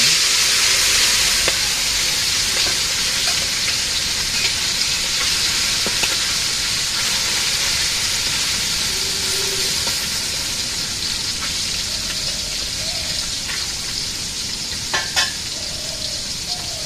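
Net-caught fish frying in a pan in a village kitchen, a steady, close, continuous sizzle and hiss throughout with small crackles and pops scattered across it, and no talking.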